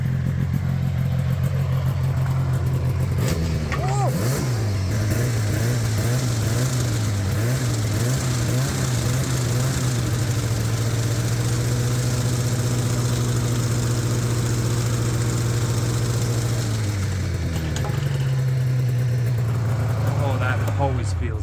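Rebuilt 1986 Yamaha Phazer PZ480 two-stroke snowmobile engine running loud and close, revving up and down in wavering pitch before settling into a steady idle, then rising again near the end.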